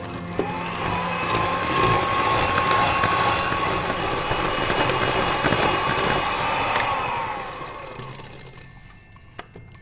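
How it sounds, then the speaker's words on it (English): An electric mixer beats a second egg into gingerbread cake batter, running with a steady loud whirring drone close by before winding down and stopping near the end, with no talk. "And then I'm going to add the second egg and I'm going to beat this again."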